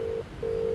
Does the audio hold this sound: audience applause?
no